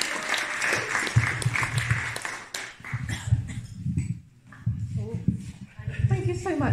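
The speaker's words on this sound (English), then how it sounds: "Can we give the artists a round of applause?" An audience claps for the artists at an arts gathering and talk. The applause is a crowd patter that rises, dips briefly and picks back up, with voices talking over it.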